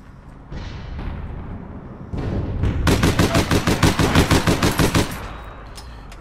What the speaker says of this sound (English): My wonderful shooting has saved the day.